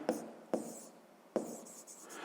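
Pen strokes on paper during a sixth-grade maths exercise, three quick scratchy bursts at a steady pace, soft and close in an otherwise quiet room.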